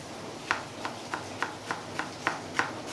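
Knife finely chopping an onion on a board for matar pulao, about eight crisp, evenly spaced cuts in a steady rhythm, close and fairly quiet, with no talking.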